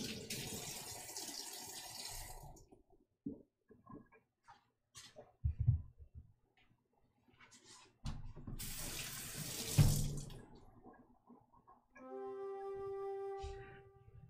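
Warm tap water runs into a kitchen sink in close, loud bursts that start and stop several times, with clinks and handling sounds between them and a brief ringing tone near the end.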